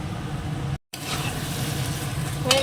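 Spices fry in a pan with a steady, close hiss of sizzling oil that runs throughout, broken once by a brief silent gap, with a small clink near the end.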